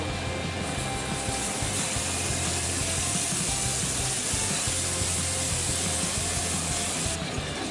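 Hot water pours steadily into a clay-pot vegetable güveç being prepared for the oven, a continuous close hiss and splash that runs for several seconds without pause.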